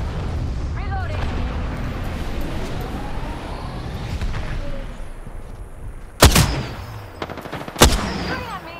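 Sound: gunfire in video game Apex Legends

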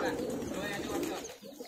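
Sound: old highflyer pigeons cooing

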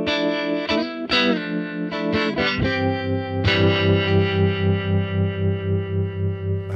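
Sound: washy guitar effect sound from Fractal FM3 preset

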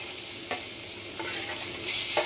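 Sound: garlic paste sizzling as it fries in oil in a kadhai

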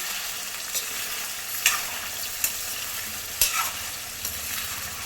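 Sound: chicken pieces frying and being stirred in a pan

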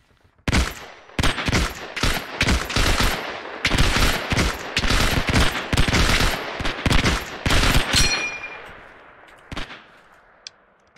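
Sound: gunfire in the video game Hell Let Loose

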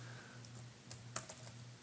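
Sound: typing on a computer keyboard

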